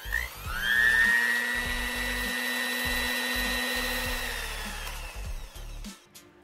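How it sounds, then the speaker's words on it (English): An electric kitchen grinder blends sugar, lemon juice and other ingredients into a puree, a loud motor whir that starts up, runs steadily for several seconds and then winds down, heard close with no talking. "And now let's start grinding all these ingredients together."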